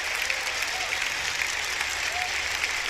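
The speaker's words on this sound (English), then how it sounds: "Please give them a big round of applause to Simon and Emilien." An audience at a Rainbow Six Siege Operation Chimera presentation applauds, a dense, even wash of clapping held steady throughout, loud and close, with a voice faintly audible beneath.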